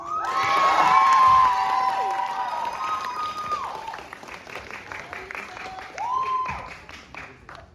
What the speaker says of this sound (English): Ladies and gentlemen, please give a round of applause for Jordan Musca.